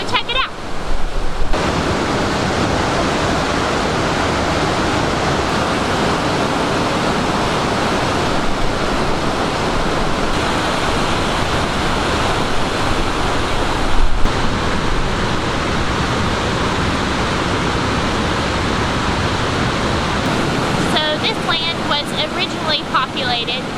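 Burgess Falls, a Tennessee waterfall, gives off a loud continuous rushing roar across the whole stretch, with a voice talking over it and occasional wind buffeting the microphone.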